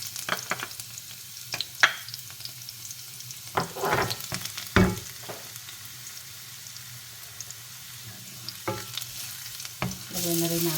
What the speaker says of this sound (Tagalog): So, ngayon, magigisa na tayo.